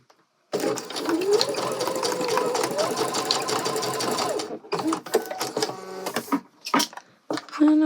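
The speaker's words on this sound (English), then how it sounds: "stitch across to connect the bias tape together" A sewing machine stitches across bias tape in a steady, continuous mechanical whir lasting several seconds, then stops, followed by a few short bursts of handling and fabric noise, fairly close.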